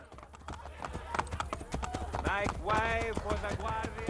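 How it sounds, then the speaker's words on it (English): Horse hooves clip-clop in a steady rhythmic gait in Assassin's Creed: Brotherhood, close and clear, with a horse whinnying midway and speech over the hoofbeats. "Stay away from the enemy horses."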